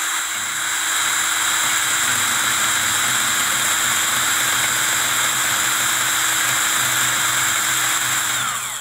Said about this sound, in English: the grinder wheel slowly eats away at the little plastic fins there